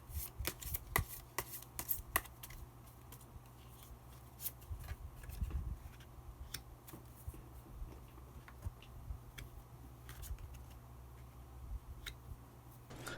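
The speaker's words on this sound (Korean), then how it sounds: "마법사 카드 한 장 더 뽑아보도록 하겠습니다" Tarot cards shuffled by hand before a wizard card is drawn, a soft run of papery riffles and taps with a low steady hum underneath, no voices.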